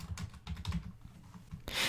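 Rapid, irregular clatter of typing on a computer keyboard while entering a task name into a list, close and steady, ending with a brief louder burst.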